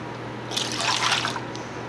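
Liquid is poured from a container into a measuring cup in a home kitchen, a short splashing trickle that rises and fades over about a second against a steady background hum.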